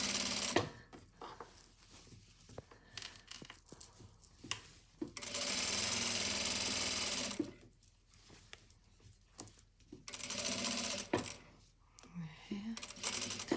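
A sewing machine stitches a jacket's sleeve and side seam in two steady runs of several seconds each, close and moderately loud, separated by quieter stretches of clicks, taps and fabric handling.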